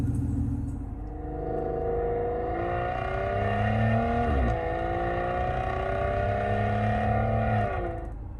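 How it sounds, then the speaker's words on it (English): A simulated supercar engine sound from a car's Android head unit revs up and down in smooth rising and falling sweeps, sounding synthetic and steady, loud and close throughout. "Let me start the engine and press on the pedal for this engine sound"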